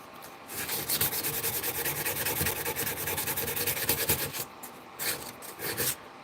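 A grinder works the steel blade of a custom fighting knife, making a steady, loud abrasive rasp that keeps going with small surges before easing off in short bursts.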